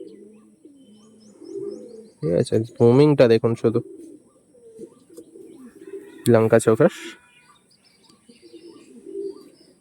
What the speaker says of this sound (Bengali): অরিজিনাল আন্ধ্রা পায়রা বন্ধুরা দেখে নিন।